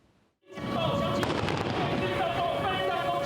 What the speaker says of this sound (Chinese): 爆炸声互现场真紧张